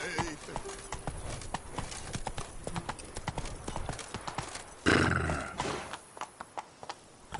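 Horse hooves clip-clop at a galloping pace in The Witcher 3, a quick run of sharp beats with a brief whinny and loud swell midway, while someone talks over the sound.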